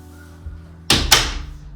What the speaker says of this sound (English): Close that door real quick.